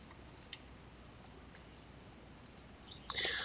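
A few sparse, faint clicks of keys on a computer keyboard while a Python program is being typed, spaced irregularly over quiet background, ending in a brief louder burst of noise.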